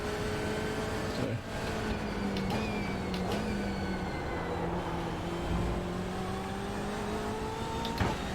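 BMW M8 GTE race car engine in iRacing on an out-lap at Laguna Seca, a steady in-car drone with pitch rising and falling through gear changes and brief shifts, moderately loud and continuous.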